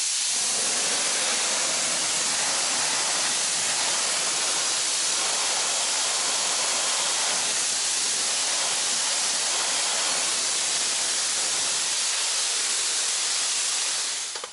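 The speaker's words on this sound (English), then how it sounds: "I'm just going to power wash it off now" A pressure washer blasts water onto the wheel of a Ford Mustang GT, a loud, steady broadband hiss of spray that runs without a break from start to finish and fades only slightly at the very end, with no talking.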